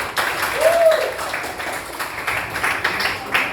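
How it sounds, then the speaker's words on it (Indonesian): Students in a classroom clap for a student group after its presentation, a brief patchy round of applause with a voice briefly heard over it. "Kasih tepuk tangan ya Dek."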